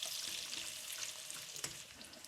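Cubed peppers and onions frying in a pan while being stirred, a soft steady sizzle with light scraping and stirring sounds, quiet and close, with no talking.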